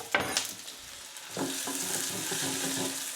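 Onions dropped into a very hot, smoking pan of oil, erupting into a loud crackling sizzle after a brief clatter, then hissing steadily.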